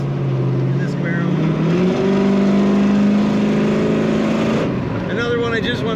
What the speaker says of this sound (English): Another one I just want to keep playing with the throttle on to hear that.